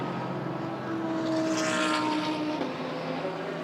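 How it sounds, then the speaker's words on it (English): GT race car accelerating out of the Parabolica at Estoril, heard at a distance as a rising engine whine with gear-change shifts, blended into a broad roar of circuit ambience. "accelerating through across the line for Farnbacker"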